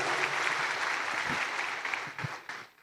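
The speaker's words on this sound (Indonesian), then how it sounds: "Tepuk tangan yang seriusan." Sustained audience applause at an Indonesian entrepreneurship event, a dense wash of many hands clapping steadily before thinning and fading out at the end.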